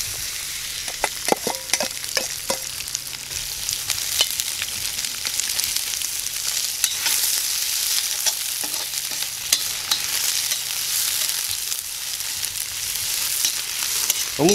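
Onion sizzles steadily in hot oil inside a kazan, a close, continuous frying hiss with occasional stirring clicks and scrapes.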